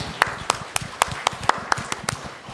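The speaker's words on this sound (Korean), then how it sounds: "감사의 박수 한번 드리겠습니다" A church congregation gives a round of thankful applause, heard as sharp, evenly spaced claps about four per second, crisp and fairly close, with faint room noise between them.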